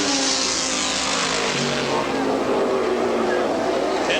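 Race cars roaring down the straightaway in the 1982 IMSA Camel GT race at Lime Rock, a loud, continuous engine drone that shifts in pitch as the cars pass, with commentary talk over it.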